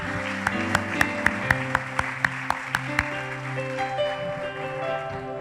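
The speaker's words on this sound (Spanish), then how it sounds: "Dale un fuerte, fuerte aplauso al Señor." Church congregation clapping together during a Spanish-language service, a burst of sharp, evenly spaced claps over music-like sustained tones that settles into a steady background.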